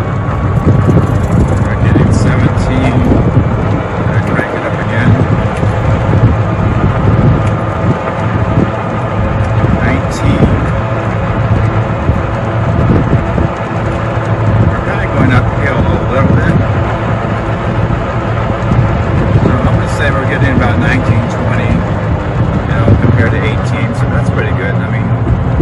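A golf cart running on a LiFePO4 battery cruises down a straightaway, its steady drive and rushing wind noise continuous and fairly loud throughout.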